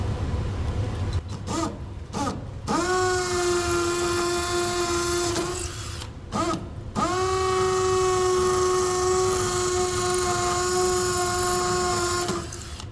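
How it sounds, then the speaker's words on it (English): A power drill with a small pilot bit whirs at a steady pitch in two long runs drilling a pilot hole into a wall, briefly stopping between them, loud and close with no talking. "Right now I'm going to use a pilot bit, meaning a drill that is a little bit smaller."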